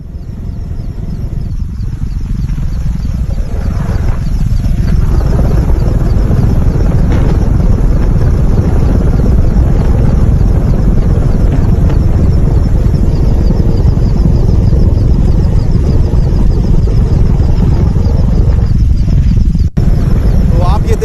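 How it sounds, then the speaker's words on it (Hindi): An Mi-17 V5 helicopter flies during a flood rescue operation in Deoghar, Jharkhand, its loud, steady rotor and engine roar filling the scene without pause, with a voice speaking faintly beneath. "Mi-17 V5 जो हेलीकॉप्टर है जिसका इस्तेमाल रेस्क्यू ऑपरेशन में किया जा रहा है"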